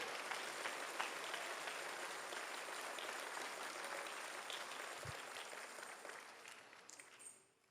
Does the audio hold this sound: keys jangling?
no